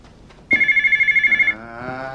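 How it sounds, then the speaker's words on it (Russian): A telephone bell rings in one steady burst of about a second, close and loud, in a domestic scene; it cuts off and the room tone carries on, with no talk over the ring. "Алло, Настенька, ты..."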